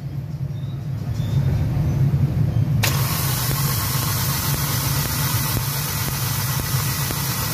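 A Hyundai Accent gasoline engine with a misfire and weak spark cranks and then catches into a steady, loud idle, heard close with a constant rumbling drone and no talk.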